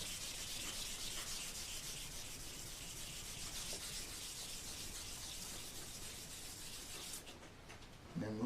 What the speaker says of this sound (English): we just want to run it over one more time with a 400 grit sandpaper.